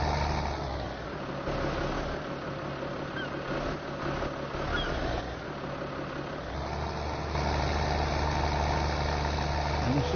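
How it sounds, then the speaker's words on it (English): An old-school John Deere windrower used as a grass cutter runs with a steady, close engine drone that holds an even idle-like rumble, then grows slightly louder and fuller about two-thirds of the way through, with no talking. "Now we need the old school John Deere windrower, grass cutter."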